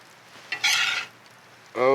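Food being scooped from a cast iron pot into a bowl over a campfire: a brief scrape and shuffle of stirring food, then a louder scraping burst near the end, close by.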